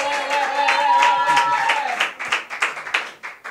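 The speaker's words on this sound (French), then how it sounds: "on applaudit très fort" An audience at a ceremony applauds, a burst of sharp handclaps arriving in the second half after a sustained, tonal voice-like sound fades out.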